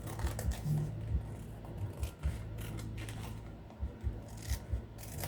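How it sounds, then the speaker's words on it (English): Scissors cutting along the edge of a paper bag, close up, with repeated crisp snips and a steady papery rasp and rustle running throughout, no talking. "So the first step is just cutting your paper bag along this edge."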